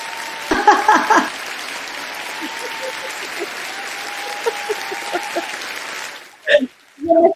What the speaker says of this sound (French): T'applaudir autant!